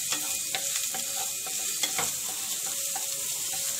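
Garlic fries in about two spoons of oil on a tawa with a bright, steady sizzle. Quick clicking scrapes of a spoon repeat throughout, close and clear.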